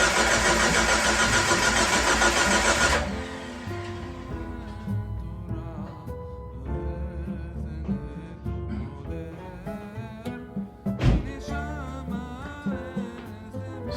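A Jeep 4.0 engine is started after an overhaul. The starter cranks loudly for about three seconds, then the engine catches and runs at a rough, uneven idle with a few louder bursts, and no one speaks.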